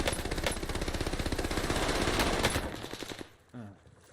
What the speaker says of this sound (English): Shotgun shooting.